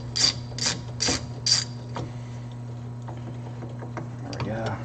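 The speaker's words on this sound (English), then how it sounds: "I remove the rear vise wood just by using that same 5/32 socket." A ratchet with a 5/32 socket backs screws out of a vertical saw vise, heard as four quick, close bursts of clicking followed by faint scattered ticks over a steady machine hum.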